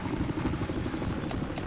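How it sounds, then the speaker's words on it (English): An enemy helicopter in the video game Battlefield 4 thumps loudly and continuously with rapid rotor beats and a dense engine roar, close by and without speech. "Guys, an enemy chopper."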